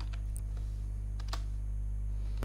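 Someone types on a computer keyboard while coding, giving scattered, light key clicks over a steady low electrical hum.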